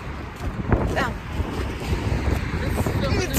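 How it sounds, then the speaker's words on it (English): Strong, cold wind buffets the microphone outdoors in a steady low roar and rumble, with a brief spoken word on top. "It's fucking windy."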